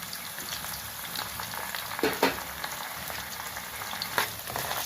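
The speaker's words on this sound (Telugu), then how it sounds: "అల్లం వెల్లుల్లి పేస్ట్ వేస్తున్నాను" Ginger garlic paste frying in a pan for an Andhra fish curry, a steady close sizzle with small crackles and pops and a few louder spatters, no talking.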